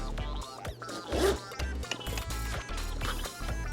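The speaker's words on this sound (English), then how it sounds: "Dry it off, and then we're gonna zip it up." A zipper on a GemTech Neo bag being zipped up, close and clear, in short rasping pulls with brief pauses.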